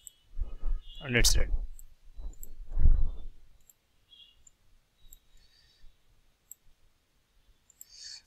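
Mouse buttons click a few times, faint and close, after a stretch of talking, in a quiet room at a computer running Blue Prism automation software.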